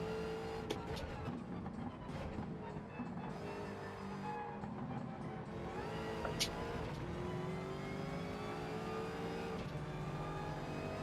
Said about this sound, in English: V8 Chevrolet supercar.